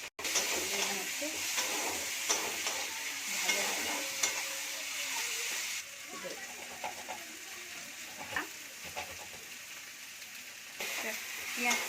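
Onion and bay leaf frying in hot oil in a pan, a steady close sizzle with stirring scrapes, while a person talks over it.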